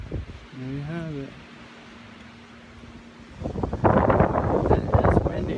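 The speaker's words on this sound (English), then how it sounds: "It is windy." Wind blowing outdoors, starting as a steady low rush and then swelling into loud, rough gusts buffeting the microphone in the second half, with a brief wavering vocal sound early on.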